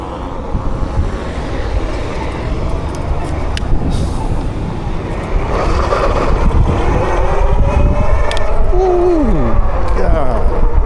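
Dual-motor electric bike with an added front hub motor kit, ridden fast; steady wind and drive roar fills the clip, with a rising-falling motor whine late on, and voices talk over it.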